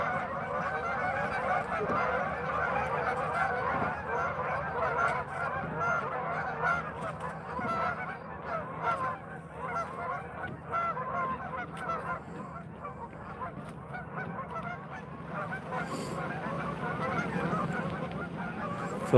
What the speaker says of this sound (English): So that's what it sounds like when you spook 200 Canadian geese